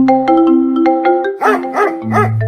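A dog barks three times in quick succession, close and loud, after a steady tonal sound.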